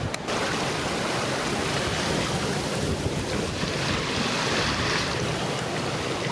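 Sea waves rush and wash continuously around a sailing yacht surging down swells, with steady wind noise buffeting the microphone, loud and close throughout with no talking.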